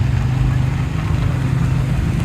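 A car drives past at the Fleming's Pumpkin Run car show, a loud, close, low engine rumble that holds throughout the pass.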